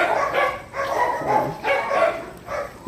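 Dogs barking in a neighborhood, a series of about five or six close, loud barks in an uneven rhythm, heard alone without speech.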